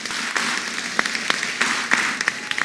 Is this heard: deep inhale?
no